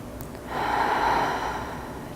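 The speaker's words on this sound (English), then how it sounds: "Taking a few deep breaths to just unwind and relax into this seated position." One slow, deep breath drawn in and released during a seated yoga flow, a close, airy rush that swells and then fades.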